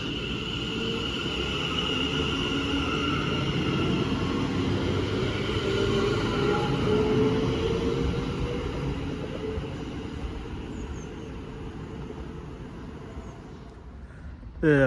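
A West Midlands Railway Class 730 electric train pulling away from a station, a steady loud rumbling roar with a rising whine that slowly eases, then a sudden knock right at the end.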